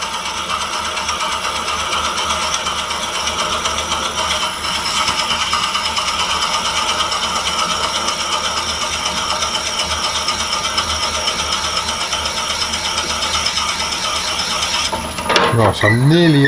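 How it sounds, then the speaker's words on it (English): A drill bores slowly into a bud vase tube, a steady mechanical whir with a ratcheting, geared texture that holds for about fifteen seconds before winding down with a brief clatter at the end. "Going to take this drill pretty much all the way in."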